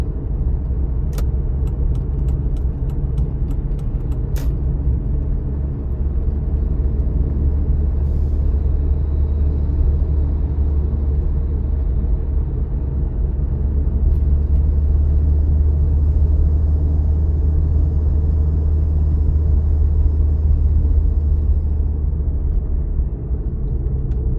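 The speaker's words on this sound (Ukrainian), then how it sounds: "навчальний автомобиль" Driving school training car engine running steadily while the car drives through town during a driving exam, a continuous low rumble throughout with faint clicks near the start and no talk.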